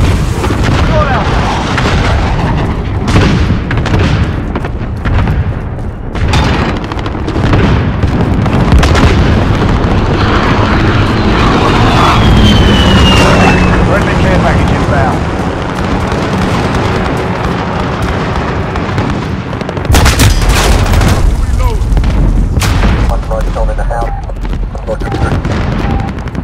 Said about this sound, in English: Allied cluster strike inbound.